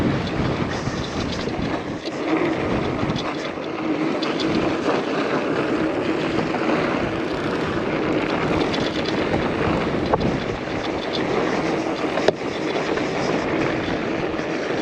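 Strong gusty wind buffets an outdoor microphone, a continuous loud rumbling roar that barely varies across the clip, with a couple of sharp knocks and no talking.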